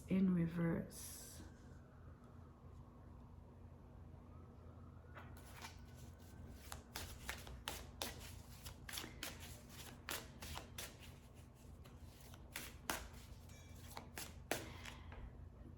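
Tarot cards being shuffled by hand: a run of soft, irregular flicks and riffles, close and quiet, with no voice speaking.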